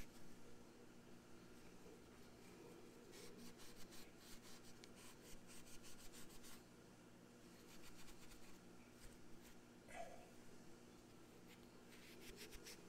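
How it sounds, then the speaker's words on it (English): A torch shaft rubbed with an oily towel during a Microflame torch repair, giving faint scratchy rubbing strokes in bursts over a steady low hum, close and quiet. "give it a quick rub."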